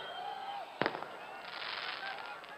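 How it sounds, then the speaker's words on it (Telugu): A sharp firecracker burst crackles out of steady crowd noise at a political welcome rally, a quick cluster of pops, followed by a lingering hiss of background commotion. "ఆ టపాకాయలు ఆపమని చెప్పండి బాబు"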